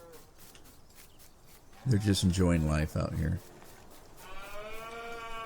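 Cattle mooing in the video game Farming Simulator 19, one loud, drawn-out moo near the middle followed by a fainter tonal call, with someone talking over the start.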